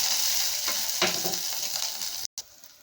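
Chopped onions frying in a pan for a yam and green chilli stir-fry, a dense steady sizzle with a few stirring scrapes, cut off abruptly near the end.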